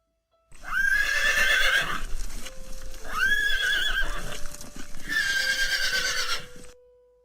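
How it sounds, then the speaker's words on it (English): A horse whinnies three times in long, loud, shrill neighs, each rising and falling, with brief pauses between them. "H for horse. I neigh, and this is what I sound like."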